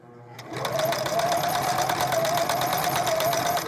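An old Singer Merritt sewing machine, unused for many years, starts up and runs steadily, a loud rapid mechanical chatter with a whirring hum, close by and continuous.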